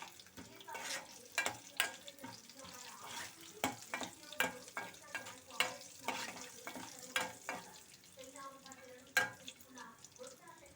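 Asafoetida tempering fries in a pan for moong dal rasam, a continuous crackling sizzle punctuated by repeated rhythmic clinks and scrapes of a spoon stirring against the metal.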